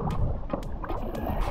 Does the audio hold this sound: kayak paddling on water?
yes